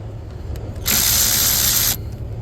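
A ratchet loosens the positive terminal on the battery of a 2012 Toyota RAV4, a close, sharp burst of rapid clicking lasting about a second, with quieter background before and after.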